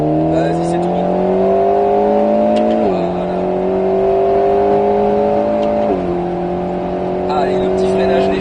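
An Alpine A110 S engine drones steadily through rising revs on the Grand Sambuc race circuit, with two brief drops in pitch as it shifts gears, sounding close and continuous.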